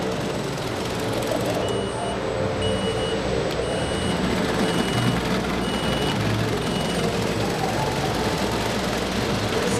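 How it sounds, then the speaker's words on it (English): The conveyor belt of a Loma IQ4 metal detector running with a continuous, loud mechanical hum and faint steady tonal whines, unchanging and without speech. "I will now push start to re-engage the belt"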